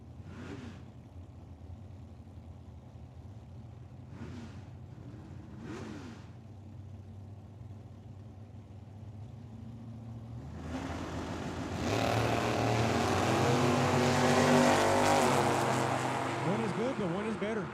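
At Tucson Dragway a Mustang and a Camaro idle with a low rumble and short blips of revving, then launch into a loud, rising engine roar with gear changes; an announcer talks over the idle.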